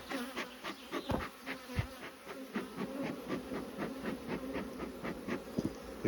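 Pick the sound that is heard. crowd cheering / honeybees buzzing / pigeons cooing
honeybees buzzing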